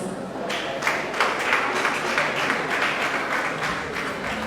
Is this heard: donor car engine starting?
no